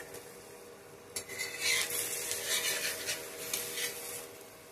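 Rice flour potato paratha frying in a pan with oil, a soft continuous sizzle with scraping and rubbing of a spatula, close and steady with no talk.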